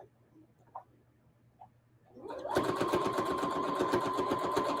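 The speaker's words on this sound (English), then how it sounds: "So whenever I sew anything, I go forward and then back a little bit." A sewing machine stitches a fabric table runner, starting after a quiet stretch and then running steadily and close at a fast, even, rapid rhythm to the end.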